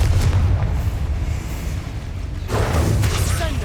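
A Confringo fire spell detonating in the video game Hogwarts Legacy, a loud booming blast with rumbling low end that fades, then a second burst swells back in near the end.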